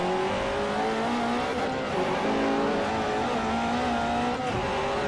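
Ferrari F40 V8 engine in the Forza Motorsport 4 racing game, a steady droning rev with shifting pitch and brief tire squeal, continuous and fairly faint with no talk.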